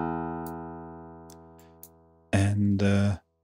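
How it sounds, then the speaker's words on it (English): A synthesized waveguide guitar note with lowered stiffness rings and slowly decays, with a few faint clicks, then a short burst of louder, harsher tone at the end. "now we have a guitar sound"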